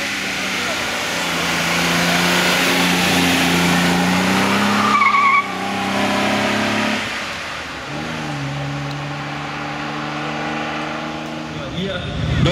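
A 1956 vintage sports car with a direct-injection three-litre six-cylinder engine making 215 hp, racing uphill at the Rossfeld hill climb; loud revving engine with gear changes and tyre squeal, passing close by, with a commentator talking over it.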